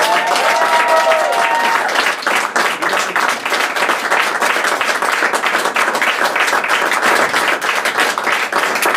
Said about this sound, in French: Je vous demande d'applaudir Jean-François.